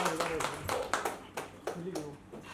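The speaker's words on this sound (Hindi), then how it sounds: "इनके लिए भी जोरदार तालियां हो जाए।" An audience at a film trailer and music launch claps as the lead actress comes on stage, with a run of sharp, separate claps at uneven spacing under a voice speaking, fairly soft overall.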